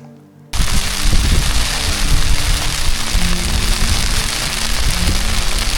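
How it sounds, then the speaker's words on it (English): Hail falling at night on a camp at about 11,500 feet on the High Sierra Trail, a dense steady patter of hard pellets that starts abruptly after a brief quiet moment and continues loud and constant. "we've got a little hailstorm going"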